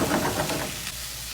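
Ginger and garlic frying in hot oil in a pan, giving a soft, steady sizzle with faint stirring scrapes, fairly quiet and heard alone.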